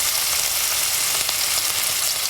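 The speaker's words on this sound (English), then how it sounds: "It is so strange to see a part of yourself slapped into an oil-covered sizzling pan like a piece of bacon" A placenta sizzles in an oil-covered hot pan, giving a loud, steady, close frying hiss that crackles evenly throughout without pause.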